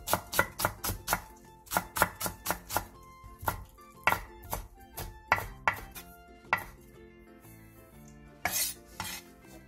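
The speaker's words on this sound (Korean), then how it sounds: "대파 2분의 1개를 길게 반으로 가른 뒤 쫑쫑 썰어주세요" Knife chopping half a green onion, split lengthwise, on a cutting board: quick clusters of sharp, close taps in bursts with brief pauses, loud and alone.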